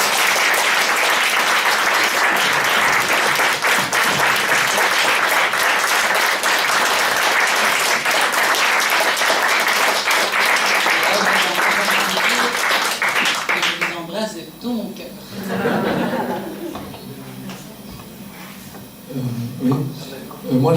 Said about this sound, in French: je vous invite à tous les applaudir